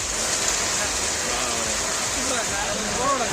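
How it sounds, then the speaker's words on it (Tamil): Heavy rain pouring steadily in a dense, hissing wash. No thunder stands out in this short stretch. "இடியுடன் கூடிய கனமழை பெய்தது"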